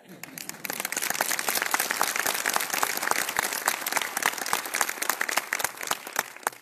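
An audience at a motivational program breaks into applause, crisp individual claps building quickly into a steady, fairly close round that continues to the end.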